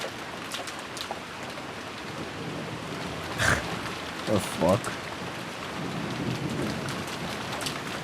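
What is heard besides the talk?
rain and thunder in a video game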